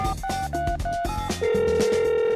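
Telephone ringing and beeping tones in a tax-office call scene, a repeating patterned electronic ring that settles into a steady held tone near the end, with music underneath and no talk.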